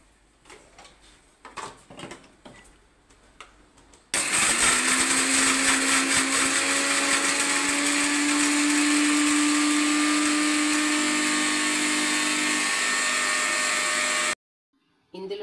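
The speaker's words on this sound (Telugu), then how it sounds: "కొద్దిగా ఉప్పు వేసి మిక్సీ పట్టుకుంటానండి" A mixer grinder jar whirs loud and steady for about ten seconds, grinding garlic cloves, cumin, black salt and salt for pani puri water, starting abruptly after some light clatter and cutting off sharply.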